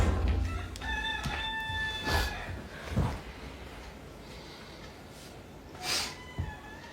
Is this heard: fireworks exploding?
no